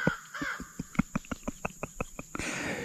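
A crow caws repeatedly in a quick, steady series of short harsh calls, moderately near, ending in a burst of broadband noise.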